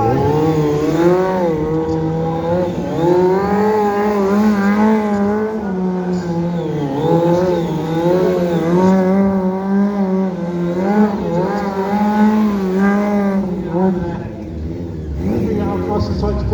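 A stunt motorcycle at a stunt show sweeps through fast, wide circles, its engine revving loud and close in a continuous rise and fall of pitch with no break.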